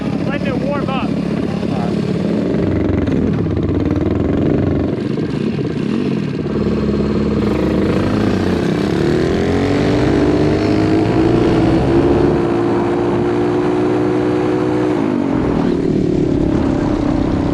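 A 225cc Mega Moto and a Honda CT190 mini bike drag race on asphalt. Their small engines buzz loudly and up close, revving up and down and rising in pitch together as they accelerate.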